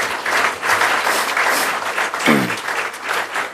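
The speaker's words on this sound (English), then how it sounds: "you can applaud that" A lecture audience bursts into strong applause during a talk on growing pro-Israel organizations in Europe, a loud, thick, sustained clatter of many hands, with a brief voice sound rising out of it midway.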